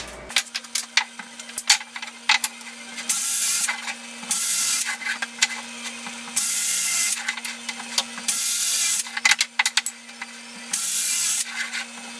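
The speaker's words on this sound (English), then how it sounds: "I'm going to start by drilling them out. We're going to countersink them" Power drill boring and countersinking screw holes in wood in a workshop, several loud sustained bursts of whirring separated by short pauses and scraping handling noises.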